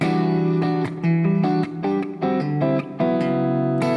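An acoustic guitar plays a percussive fingerstyle rhythm: thumb slaps and strummed chords alternate in a tight repeating pattern, loud and close, with sharp attacks between ringing chords.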